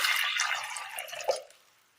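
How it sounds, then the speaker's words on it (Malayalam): Water poured into a pan on a stove makes a short, close rushing splash that trails off into a final drip, heard alone. "അടുപ്പത്തൊരു ചട്ടി വെച്ച് കൊടുത്തതിന് ശേഷം അതിലേക്ക് അല്പം വെള്ളം ഒഴിക്കാം."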